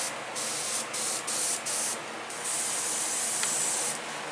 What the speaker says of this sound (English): my airbrush is really spitting. It's really spitting tonight.